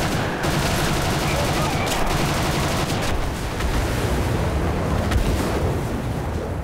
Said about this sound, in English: the tail turret burns me down